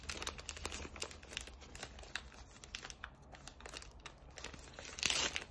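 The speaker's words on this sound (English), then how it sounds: "Let's open one of these gifts. Look at the paper." Pretty wrapping paper crinkles and tears as a gift is unwrapped, a close, quiet run of irregular rustles and crackles with a louder burst near the end.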